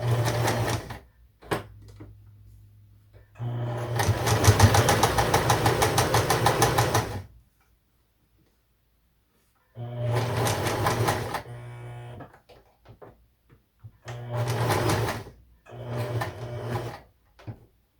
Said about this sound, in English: now we're gonna sew it closed